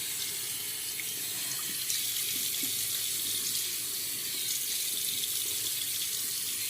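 Tap water runs steadily into a bathroom sink while rinsing off after a shave, a constant close hiss with no pauses.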